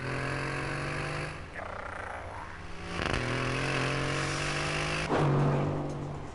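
Aston Martin Vantage with an AMG-built engine revving, a steady gravelly drone that rises in pitch through three throttle blips, moderately close with no talk.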